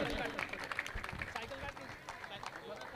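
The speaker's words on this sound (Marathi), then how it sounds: "एकदा जोरदार टाळ्या झाल्या पाहिजे सनीसाठी." A crowd applauds for Sunny at the Naik Chashak 2025 tournament prize ceremony: dense, steady clapping with a busy, crackling texture, mixed with voices throughout.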